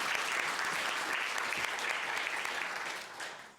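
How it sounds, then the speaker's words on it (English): Audience applauding at a scientific lecture on glucagon resistance, a dense, even wash of clapping from many hands that fades out toward the end. "no worries about the clapping"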